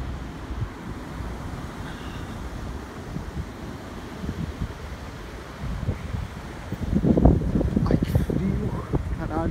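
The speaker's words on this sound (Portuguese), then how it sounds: "O vento." Wind blows through a snowy night street in Hokkaido, a constant low rushing that swells louder near the end, with no talk over it.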